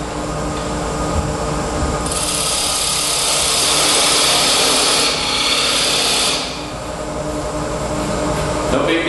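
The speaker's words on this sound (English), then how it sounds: "the way you normally use a parting tool is to come in like this" A wood lathe parting tool cuts into spinning stock to form a tenon, giving a loud, steady rushing scrape that swells for several seconds over the lathe's constant hum, then eases back.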